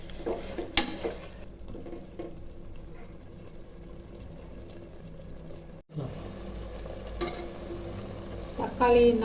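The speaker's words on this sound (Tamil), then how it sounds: "தக்காளி நல்லா வதங்கிருச்சு." Tomatoes frying and being stirred in a pan for chicken biryani, a steady low sizzle with occasional scraping and clinks of the spoon against the pan, fairly close and moderately loud, with a brief dropout partway through.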